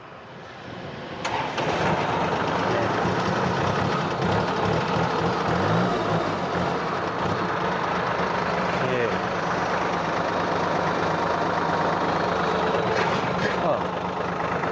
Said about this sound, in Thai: ฟังเสียงเครื่องหน่อยเป็นไง